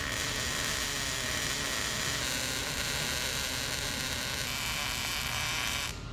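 A welder lays hot, deep-penetrating beads on the bed of a Chevy square-body truck during a short-bed conversion, producing a loud, continuous close-up crackling buzz that cuts off at the end.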